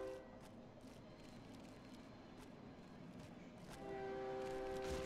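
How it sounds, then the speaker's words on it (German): Train rumbling past in the horror game Cry of Fear, a steady low roar with clattering that swells louder and gains tonal squeal toward the end. "Vor allem, woher kommt hier ein Zug?"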